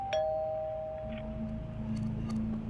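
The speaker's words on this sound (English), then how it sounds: "then I heard the doorbell ring" A home doorbell rings once with a short electronic chime tone over a quiet indoor background.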